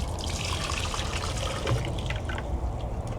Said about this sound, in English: We're gonna pour that into the blender.